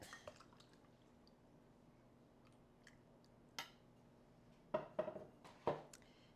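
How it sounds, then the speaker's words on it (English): Scooping homemade hot chocolate from a pot on the stove, mostly quiet with faint liquid drips and a few sharp ladle clinks and splashes near the end, close and soft. "I'm just gonna scoop out some hot chocolate"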